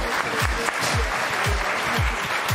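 Audience applause during the finals of the French robotics cup, dense continuous clapping, loud and close, with rhythmic low thumps pulsing underneath.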